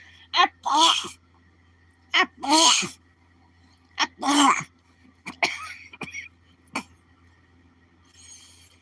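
A voice imitates Donald Duck sneezing, several sharp squawky bursts in a row, with gasps and throaty sounds between them.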